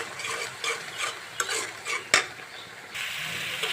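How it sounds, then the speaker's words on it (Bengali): Prawns go into a pan of cooked-down spice masala and fry, with a bright sizzle and scraping stirs from a spatula against the pan, plus a sharp clack of utensil on metal midway; close and continuous, no talk. "এখন আমি দিব চিংড়ি মাছগুলো দিয়ে দিব।"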